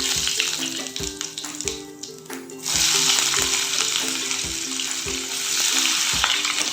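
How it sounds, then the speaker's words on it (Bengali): Onions and whole spices tossed into hot mustard oil: a loud, close crackling sizzle with rhythmic metal-spatula scraping and knocks against the pan, swelling as the onions hit the oil. "ওই তেলের মধ্যেই আমি কটা গোটা দিয়ে ফোড়ন দিয়ে পেঁয়াজগুলো দিয়ে দেবো"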